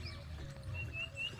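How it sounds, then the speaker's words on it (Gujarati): A sparrow gives a few short, high chirps near a home in a family yard. The calls are faint and brief over a low background hum. "છે એ ચકલું જબરજસ્ત બોલે હા"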